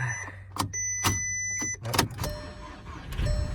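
An auction car's engine cranks and catches briefly inside the cabin, with short bursts of starter and engine noise, a steady electrical whine and a few chimes, then it dies out.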